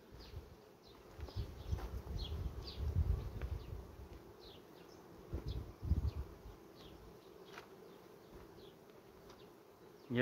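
Honey bees from a natural swarm buzz around a hive frame, a close, steady droning hum with individual bees zipping past in brief louder passes, no talking.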